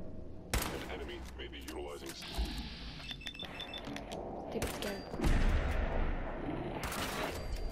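Gunfire in the video game Fallout 4, a few sharp shots and metallic clinks amid mechanical game noise, fairly quiet, with a person talking at times.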